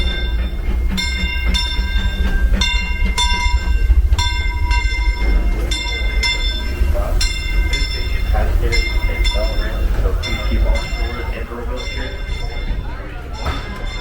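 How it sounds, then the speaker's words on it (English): Disneyland Railroad train pulling into a station at the Disneyland Resort, with steady rumbling and clanking wagons, a ringing bell and bright repeated whistle-like tones throughout, loud and close under crowd chatter. "see the train pull in"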